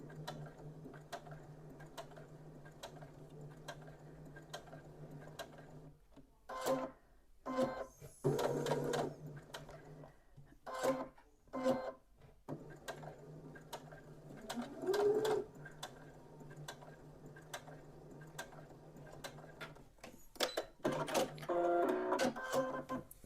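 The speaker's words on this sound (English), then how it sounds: "keep lifting up your presser foot and moving it" A sewing machine stitches a fabric travel jewellery and medication pouch around a curve, running in short bursts of rapid mechanical ticking separated by pauses, close and moderately loud.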